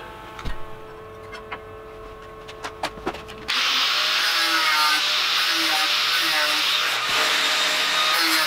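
A power tool starts up and cuts a piece of sheet metal for a homemade metal folder, a loud, steady, harsh whine holding for several seconds after a few light clicks and taps.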